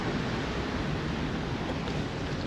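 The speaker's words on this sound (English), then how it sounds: "I don't know if y'all can hear that rumbling, but that's the water passing through on its way out of the locks." Water rushes out through the Cooper River locks in South Carolina, a steady low rumbling roar that stays constant and close with no voices.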